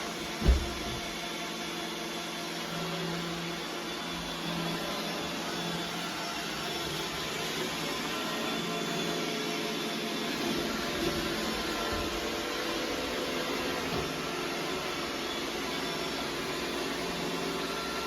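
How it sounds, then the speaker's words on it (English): Roomba 980 robot vacuum running on a hardwood floor at reduced suction, a steady faint whirring hiss that holds evenly throughout after a small knock at the start. "think it just kicked the vacuum speed down a bit. Because it's not on carpet, it's on a hardwood floor"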